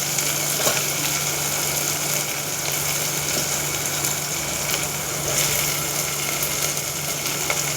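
Chopped potato frying with tomato in a pan for Maharashtrian masoor dal, giving a steady, close sizzle with scattered crackles and no voices.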